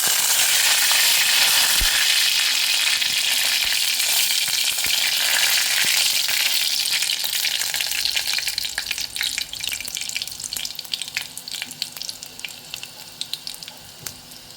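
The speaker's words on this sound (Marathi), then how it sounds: "आता हा कढीपत्ता उडायला सुरुवात होईल।" Curry leaves and garlic sizzle and spit steadily in hot oil for a Konkani-style prawn and potato curry, the loud frying hiss easing somewhat toward the end with scattered crackles and pops.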